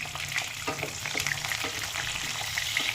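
Onions, ginger pieces, garlic and green chillies sizzle and fry steadily in a pan for a paneer masala, a continuous close crackling hiss with faint stirring scrapes and no talk.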